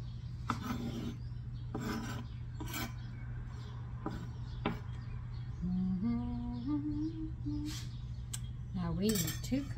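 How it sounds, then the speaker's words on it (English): Sharp cheddar cheese rubbed against a grater in rasping bursts, repeated strokes at moderate level with a steady low hum beneath and some clinks of kitchenware near the end. "Now we need 2 cups of shredded sharp cheddar cheese. So we're going to be grating."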